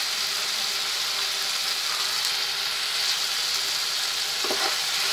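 Spice paste for an Afghani-style egg curry fries in a pan, a steady, bright sizzle that runs the whole time with a brief scrape of stirring near the end, no voices.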